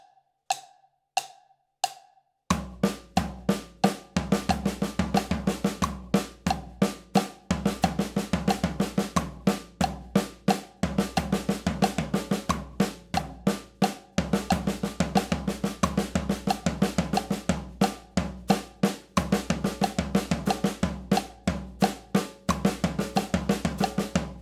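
A drum kit solo in a five-note grouping, passing between eighth-note and sixteenth-note figures in a steady, dense stream of hits. A few sparse clicks come first, then loud, close, continuous drumming fills the rest.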